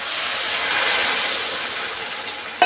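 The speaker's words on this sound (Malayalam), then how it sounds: "അപ്പം നല്ലപോലെ ചൂട് വെള്ളം ഒഴിക്കും" Hot boiled water poured from a vessel onto uppu maavu (rava upma), a steady, close hissing splash with no breaks, ending in a brief sharp clink.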